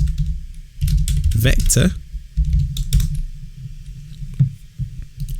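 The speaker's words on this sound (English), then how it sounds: "what I can do is type in Nike logo" Computer keyboard typing on a search page, a run of quick soft key clicks close by, mixed with a low background hum and a voice talking over it.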